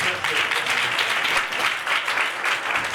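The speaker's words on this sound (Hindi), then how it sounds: "जोरदार ताली बजाकर परमेश्वर के नाम को धन्यवाद दें।" A church congregation claps together in a steady, loud wash of applause that fills the whole stretch without pause, with no one speaking over it.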